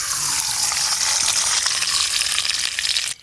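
Desi ghee sizzles and crackles steadily in a hot frying pan, a loud, dense frying hiss that stays even throughout and cuts off abruptly at the end, with no talking.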